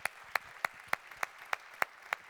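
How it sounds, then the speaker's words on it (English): Clapping for panelists at a World Food Forum opening ceremony, heard as a sparse, evenly spaced series of about eight distinct claps, close and crisp rather than a full crowd. "Join me in an applause thanking all of the panelists"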